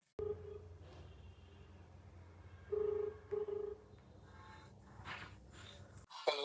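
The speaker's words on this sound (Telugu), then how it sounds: "ఇప్పుడు అలా ఫోన్ చేద్దాం." A phone call is dialed and rings out, with a few short tones repeating over quiet room noise and faint breathing, followed by a brief click near the end.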